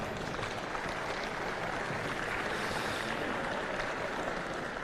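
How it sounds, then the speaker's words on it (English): Sustained audience applause fills a basketball awards ceremony at the under-17 national finals, a steady dense wash of clapping with no pauses and no talk over it. "round of applause for Belinda."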